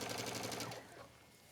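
A sewing machine stitches a towel hoodie in a quick, rhythmic run of needle strokes that fades out after under a second, leaving a quiet hum.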